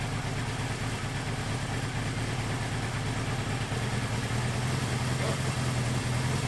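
A Suzuki GS550 motorcycle engine, long unused and smoky, idles steadily on its first start in 32 years, a continuous low rumble with a dense, even pulse throughout.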